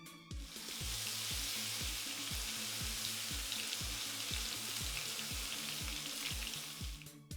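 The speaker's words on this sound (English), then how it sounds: "Cook these over low heat until they begin to get crisp and golden brown." Dried chili pepper, star anise, garlic and ginger frying gently in oil over low heat, a steady close sizzle with a rhythmic series of soft low knocks running throughout, no voices.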